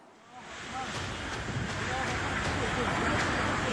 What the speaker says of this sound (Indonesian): Beginilah suasana saat angin kencang menghantam sejumlah pertokoan di Jalan Raya Pandeglang Labuan